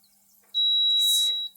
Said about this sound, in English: it tells me that I'm blocking the door by beeping